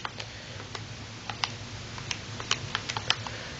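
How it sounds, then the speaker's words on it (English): Numbers being keyed into a calculator: a quiet run of light plastic taps, irregular and close, about a dozen presses clustering toward the end. "And then we can just type that into our calculator."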